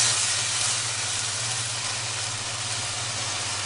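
A pot deglazed with veal stock gives off a loud, continuous steam hiss over a steady low hum, unbroken and close throughout.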